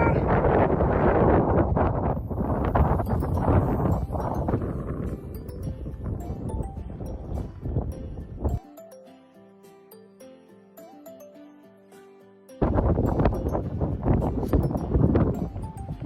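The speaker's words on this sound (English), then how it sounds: "A little windy." Wind gusts across an Appalachian Trail mountain summit at sunset, a loud rumbling buffeting that fades partway, leaving a quiet lull with faint tones before the roar returns strongly.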